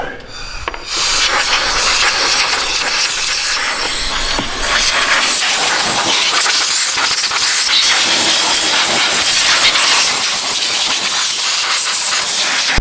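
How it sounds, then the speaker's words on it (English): Compressed air blasts steadily to clear metal shavings from a Hyundai Santa Fe alternator job, a loud, continuous hiss that runs almost unbroken for the whole stretch after a brief quieter start. "Watch this lid on that so I can blow these metal shavings out"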